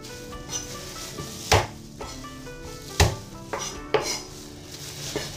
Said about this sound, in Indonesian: Untuk bumbu siapkan 3 siung bawang putih dan digeprek.